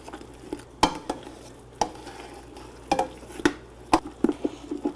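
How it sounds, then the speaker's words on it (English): A spoon stirs food in a pot on a cooking show, giving a string of sharp scraping clinks against a faint sizzle, close and fairly loud, with no talking. "Let's stir that around."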